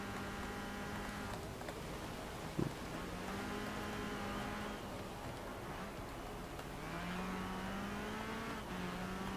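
Engine of a Porsche 911 GT3 RS in the Forza Horizon 4 racing game revs and accelerates through gear changes, a steady, fairly quiet high-pitched whine rising and dropping in pitch without speech.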